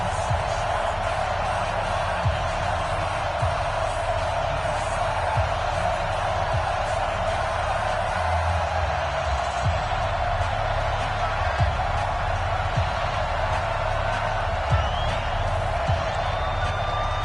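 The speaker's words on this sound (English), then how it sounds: "This crowd is ready as their guys get set to match up between the Minnesota Vikings and the New Orleans Saints." A stadium crowd in an EA Sports football video game between the Minnesota Vikings and the New Orleans Saints cheers as a steady roaring wash, with faint thuds scattered through it.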